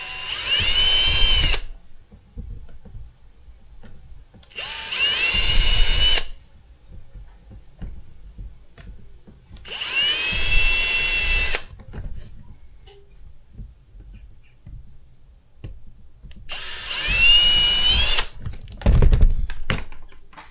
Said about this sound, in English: I'm just going to pre-drill some pilot holes because it comes with some screws.